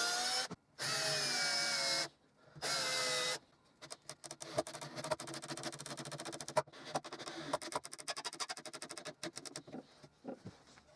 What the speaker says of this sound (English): I used a 2mm drill bit, a countersink and then some drywall screws.